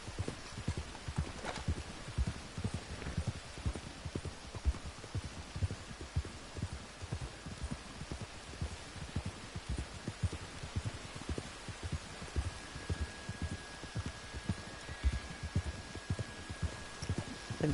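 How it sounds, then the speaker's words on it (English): Horses in Red Dead Redemption 2 move at a steady gait, their hooves thudding in a regular clip-clop rhythm that carries through the whole stretch, with a faint outdoor ambience behind it. "I think I heard some wild horses there"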